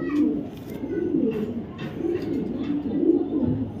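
A male racer pigeon cooing up close, repeated low rolling coos in a steady rhythm over faint background chatter.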